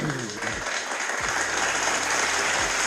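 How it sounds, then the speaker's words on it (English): Applause on a livestream rings out as a dense, continuous wash of clapping at a steady, fairly loud level, with a low hum running underneath. "Let me clap it up for PR"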